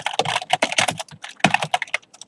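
Rapid typing on a computer keyboard while writing JavaScript code, with dense, uneven bursts of crisp key clicks close to the microphone, broken by brief pauses.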